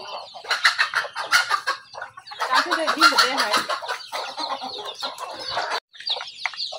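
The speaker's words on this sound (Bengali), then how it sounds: "আমার যে টাইগার মুরগিটা আছে ওই মুরগিটা কিন্তু ডিম পাড়তেছে" A Tiger breed hen clucks repeatedly in bursts, close and fairly loud, with a brief pause near the end; a person speaks briefly over the calls.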